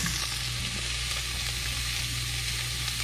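Hybrid striped bass fillets fry in a hot pan, giving a steady, close hiss of sizzling oil that holds level throughout, with no talking.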